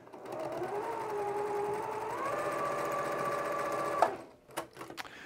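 A sewing machine stitching white and colored quilt fabric pieces together, running in a steady close whir with a shifting motor pitch for about four seconds, then stopping with a few clicks and handling sounds.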